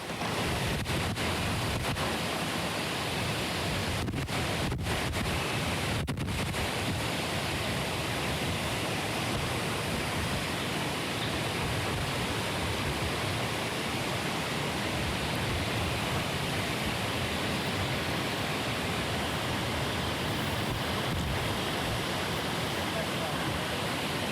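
A steady roar of Hurricane Michael's wind and crashing surf at landfall fills the whole stretch, with a few brief gusty buffets hitting the microphone.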